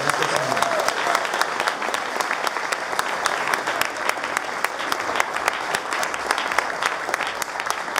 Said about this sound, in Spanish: Recíbele con un fuerte aplauso.